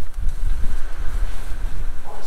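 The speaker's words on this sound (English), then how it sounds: "Excuse this wind, it's really windy." Loud gusting wind buffets the microphone in a continuous low rumble, with faint rustling in the background.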